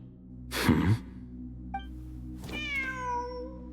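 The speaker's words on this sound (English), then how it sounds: "Wait, there it is! The cat!" A video game cat gives two meows: a breathy, raspy cry first, then after a short pause a longer, clearer meow that falls in pitch, over a faint steady background hum.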